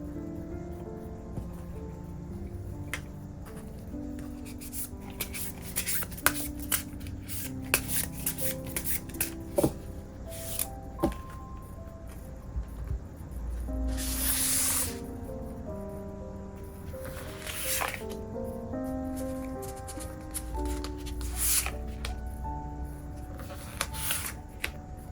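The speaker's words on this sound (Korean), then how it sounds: "그럼 카드 뽑아볼게요." Tarot cards are shuffled and drawn by hand: steady papery riffles and soft slaps at close range, with bursts of louder shuffling throughout, heard under soft background music with no talking.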